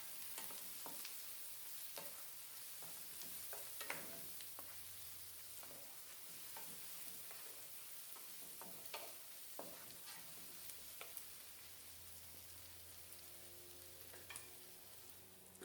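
Green seasoning sautés in a pot for Guyanese stewed fish, giving a quiet, steady sizzle with occasional clicks and scrapes of stirring, heard alone without talk.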